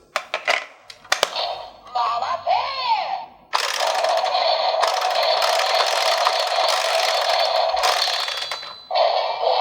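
Plastic DX Geardalinger transforming gear toy from Kikai Sentai Zenkaiger flipped over, giving a few loud ratchet clicks and a whirring spin before a long sustained electronic sound effect plays close up.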